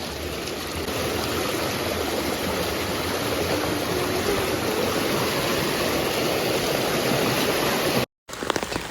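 A small waterfall on a stream beside a house rushes in a constant, dense splashing roar close by, steady throughout, with one brief cut to silence near the end.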